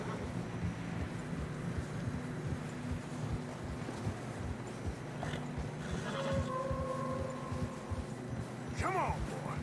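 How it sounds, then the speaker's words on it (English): Horses in Red Dead Redemption 2 trudge through fresh snow on a narrow trail, with soft muffled hoof steps under a steady windy ambience, a brief whinny near the end, and occasional voices. "Horses are getting tired."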